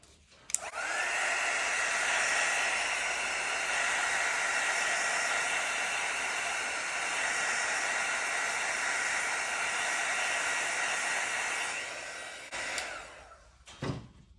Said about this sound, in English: I'll just use my heat embossing tool in a second just to help to disperse those.